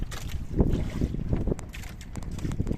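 Strong wind buffets a small fishing boat at sea off an island, with a dense, continuous low rumble of gusts and water that stays loud and close for the whole stretch and no one speaking.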